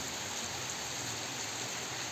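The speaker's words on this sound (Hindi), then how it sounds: "कितनी बारिश हो रही हो" Steady rain in cold weather in Dehradun makes a constant wash of hissing noise, even and unbroken, with no voices heard.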